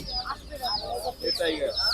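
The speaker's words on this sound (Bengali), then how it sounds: "এগুলা টাইগার মুরগির বাচ্চা" Tiger chicken chicks at a winter bird market peep and cheep continuously amid crowd noise and nearby chatter, the calls dense and overlapping at moderate level.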